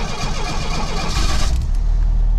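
A 1975 Ford Pinto engine cranks and fires up close by, rising into a loud, rough, slightly rattly running rumble.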